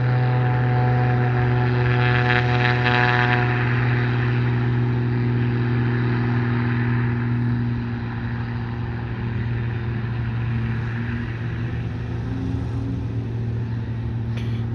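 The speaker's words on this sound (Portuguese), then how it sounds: "Deixa você ouvir o ronco do motor." A propeller airplane engine at Sorocaba Airport roars steadily, loud and near, with a deep droning hum that eases slightly partway through.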